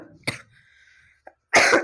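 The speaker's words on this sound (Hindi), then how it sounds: "खांसी हो गई" A single sharp cough up close, followed by a short pause and then a heavier, rougher cough or throat-clearing burst.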